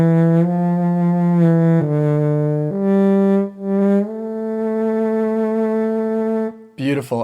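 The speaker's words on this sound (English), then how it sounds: "I've loaded up a SWAM French horn and it sounds like this." A SWAM physical-modeling French horn virtual instrument plays a slow legato melody of several sustained, warm brass notes stepping between pitches, clear and alone, with a brief different sound at the very end.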